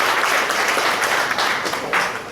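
Audience applause for the speakers at an education seminar in Puerto Bermúdez, a dense burst of clapping from many hands, fairly close and loud, continuing steadily throughout.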